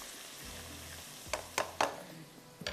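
Masala for mutton darbari sizzles quietly in a pan, a soft low frying hiss broken by a few sharp scraping clicks of a spoon stirring, with no voices.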